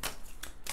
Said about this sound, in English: So now I'm going to shuffle these cards